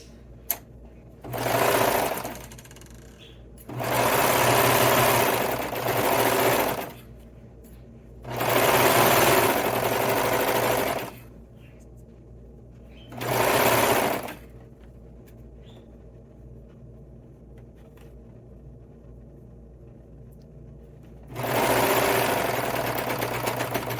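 A sewing machine stitches the seam of a winter beanie hat in five separate bursts of a few seconds each, with quiet pauses between them and no talking.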